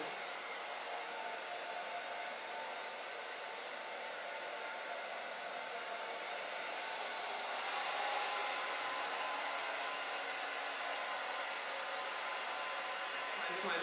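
Hair dryer on a fast setting blowing through freshly cut hair during a bob haircut, a continuous close airy roar that swells slightly louder midway, no speech.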